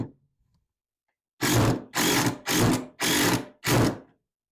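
A power drill drives a screw into a wooden outdoor play kitchen in five rapid, loud, evenly spaced bursts of whirring, after a brief faint voice at the start.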